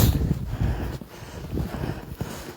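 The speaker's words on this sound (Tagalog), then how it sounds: "Ang hangin-hangin pa man din." Strong gusts of wind buffet the microphone outdoors during a Madrid snowstorm, with rough, uneven low rumbling that surges and eases for a few seconds and no speech.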